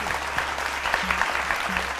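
A studio audience applauds a singer after a soft song on a televised Kannada singing show, a dense steady patter of many hands clapping close by throughout.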